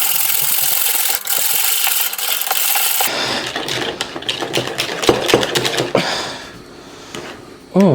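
Double cream being whisked in a bowl for homemade ice cream, a rapid close scraping and clicking of whisk against bowl that starts after a few seconds of other kitchen noise.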